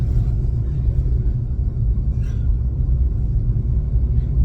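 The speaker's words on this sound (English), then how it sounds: "Big old bus getting in the way." A big bus rumbles past on a road, a steady, loud, low drone of engine and traffic noise filling the whole stretch, with no voices.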